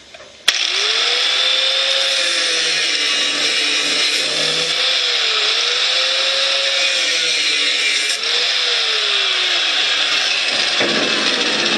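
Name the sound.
power tool cutting expanded metal on a Craftsman mower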